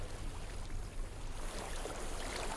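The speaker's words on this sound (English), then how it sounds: "I hear water." Flowing water in the video game Hellblade: Senua's Sacrifice rushes in a steady, soft stream close by, a continuous watery hiss with no talk over it.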